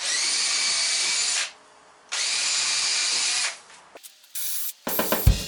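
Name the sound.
power drill drilling pilot holes into wooden shelf uprights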